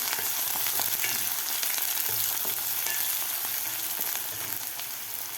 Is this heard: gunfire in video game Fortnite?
no